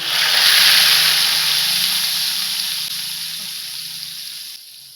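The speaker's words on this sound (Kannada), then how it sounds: "ಆಫ್ ಮಾಡಿ ಇದಕ್ಕೆ ಬೆಳ್ಳುಳ್ಳಿದು ಒಗ್ಗರಣೆ" Garlic tempering hits hot oil for a coconut-flavoured dish in a clay pot, bursting into a loud, bright sizzling hiss that slowly fades over a few seconds, close up.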